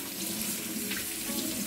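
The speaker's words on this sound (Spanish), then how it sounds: "Los escurrimos y echaremos un buen chorro de agua fría" A steady stream of cold water pours from a kitchen tap over drained cooked prawns, a continuous close splashing rush that stays even throughout.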